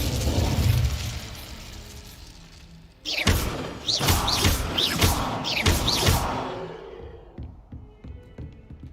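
A fire spell cast in Hogwarts Legacy bursts in with a loud whooshing flare, followed by a run of sharp crackling, thudding impacts that fade out over several seconds.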